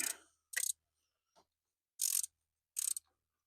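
Valve cover bolts on a 6.0 Powerstroke engine are tightened with a ratchet in short, crisp clicking bursts, four main bursts with a faint click between, close up and separated by quiet gaps.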